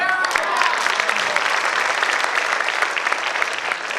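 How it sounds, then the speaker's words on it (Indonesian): An audience at a direct sales company meeting claps in continuous, lively applause, loud and close, sustained for the whole stretch without a break. "dia dikasih aplaus"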